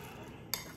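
A metal spoon picked up in a kitchen, one short bright clink against dishware over quiet room noise.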